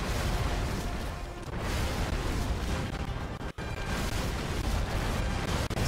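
Ship cannon fire in the strategy game Anno 1701, dense overlapping rumbling booms and blasts that roll on almost without pause, loud and close.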